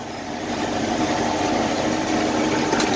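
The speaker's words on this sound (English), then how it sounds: "D2 tack is broke, but we'll idle it right down." Old tractor engine idling with a steady, rumbling chug that stays loud and close throughout, with no talk.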